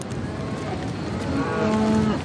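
Cattle from a herd in parched scrubland in southwest Africa moo with a low, drawn-out call, rising in the second half, over steady outdoor ambience.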